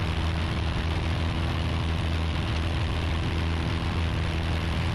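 A light propeller airplane climbs in a right turn over Hartford, its engine a steady, loud drone heard from inside the cabin.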